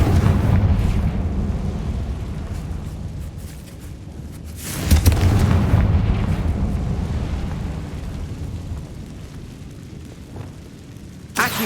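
Fiery Confringo blasting spell explosions from the Hogwarts Legacy video game: a loud rumbling burst opens, a second sharp boom erupts midway with a long roaring decay, and a smaller pop comes near the end.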